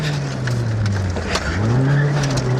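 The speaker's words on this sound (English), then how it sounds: "Braking hard." Rally car braking hard on a closed stage of the 1994 Manx Rally near Brandywell, heard from inside: loud steady engine drone with a falling then rising pitch as it slows and picks up again.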